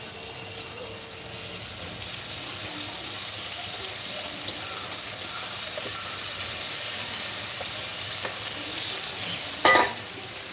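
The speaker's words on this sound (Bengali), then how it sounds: "আমি তো এখন রান্না করছি শাক ভাজি করছি" Leafy greens fry in a pan with a steady, close hiss that runs the whole time, like running water. A short clatter comes near the end, and no one talks.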